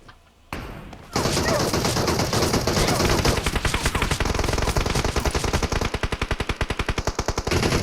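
Loud, sustained automatic gunfire in a video game bursts in after a brief quiet opening, then rattles on as rapid shot after shot in dense bursts that grow more distinctly spaced toward the end.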